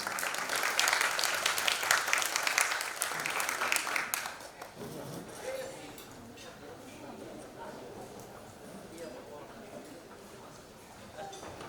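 Audience applause at The Best CEO 2023 awards evening, loud and dense for about four seconds, then fading into quieter room murmur and a few scattered claps.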